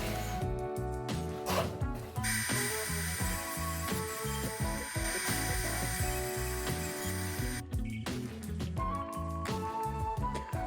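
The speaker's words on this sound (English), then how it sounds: "let's test out how it's sliding before we get on to the next stages. A bit of back forward motion," A wooden crosscut sled is pushed back and forth across a table saw top, giving close sliding rumbles and knocking clatter mixed with tonal, music-like layers. No one speaks.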